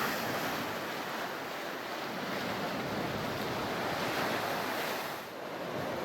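Large surf waves crash onto a coral reef off Norfolk Island, a continuous roaring wash with slowly swelling and easing surges, steady and fairly distant, with wind buffeting the microphone.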